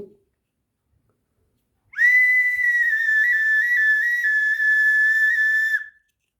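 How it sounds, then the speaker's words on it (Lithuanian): A Lithuanian folk whistle made from a twig sounds one long, clear, sustained note for about four seconds, wavering slightly in pitch, with silence before and after. "Na ir užbaigia visą rinkinį švilpynės."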